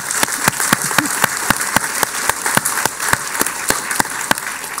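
A crowd applauds steadily, with dense, continuous clapping and a few sharper individual claps standing out.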